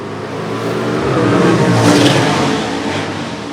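Gasser drag race cars starting at Shadyside Dragway, a loud, continuous engine roar that swells in the middle and holds steady, with no talk.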